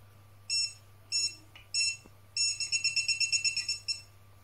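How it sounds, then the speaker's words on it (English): A PeakTech non-contact voltage detector sounds in short separate shrill chirps, then a rapid run of quick repeated beeps near a transformer, over a steady low electrical hum. "this will beep all over this thing because this has a transformer in it"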